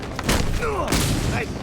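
Gunfire in Batman: Arkham Knight, a few loud booming shots with a crashing impact, heard amid game sound effects and a voice speaking over the action.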